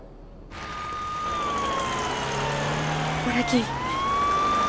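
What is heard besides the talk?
ambulance siren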